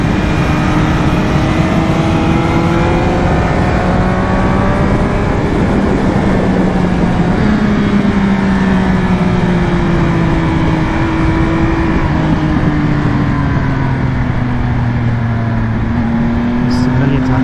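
A 2020 Triumph Speed Triple RS motorcycle engine revs hard during a ride, its pitch climbing and falling with gear changes under continuous loud wind roar.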